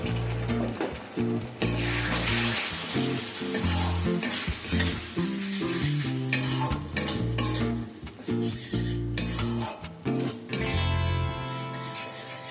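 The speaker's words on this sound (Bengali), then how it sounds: "সামান্য পরিমাণ জল অ্যাড করে মশলাটাকে আবারও ভালোভাবে কষিয়ে নেব।" Spice paste with Kashmiri red chilli powder and a splash of water sizzles and fries in a pan while being stirred steadily, with loud, continuous crackling and scraping of the spoon against the pan throughout.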